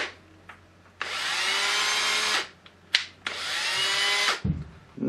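An old cordless drill refitted with a lithium battery whirs loudly in two sustained bursts of about a second and a half each, spinning up and winding down, with short clicks and a thump between runs.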